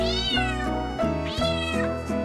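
A cat meows twice in long, rising-and-falling calls, close and clear, with no talking over it.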